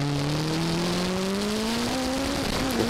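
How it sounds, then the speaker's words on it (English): Classic touring race cars, including a powerful Subaru and a BMW M3, race at Mallory Park, with one loud engine note climbing steadily under acceleration close by and other engines behind it, and no talk. "the more powerful Subaru pulling up alongside and going through."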